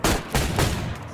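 Gunfire in the StalkerZ RP game cracks out in three quick, loud, close shots spaced a fraction of a second apart, each leaving a short ringing tail.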